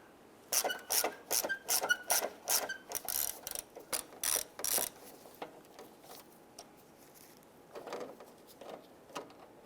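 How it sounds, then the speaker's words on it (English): A ratchet clicks in quick bursts as it turns a bolt on the rear grille bracket of a 1995-2001 Ford Explorer, driven through a 5/16 socket on a couple of extensions; close, crisp ratcheting in several runs with brief pauses. "going to use our 5/16 socket with a couple extensions"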